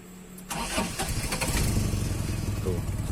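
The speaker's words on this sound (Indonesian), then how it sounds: "Sekarang kita coba nyalain mesinnya." A Honda Civic Wonder with an HKS exhaust starts up: a short starter crank, then the engine catches and settles into a loud, rumbling idle, with voices talking over it.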